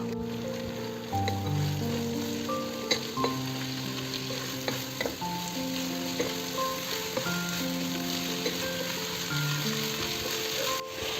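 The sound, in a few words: sliced onions frying until light brown for fish biryani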